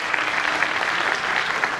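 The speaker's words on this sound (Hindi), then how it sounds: "बस जोरदार तालियां हो जाए मैम के लिए" An audience at a civil services aspirants' seminar claps loudly for a woman IRS officer, a brief, full, steady burst of many hands with no talking over it.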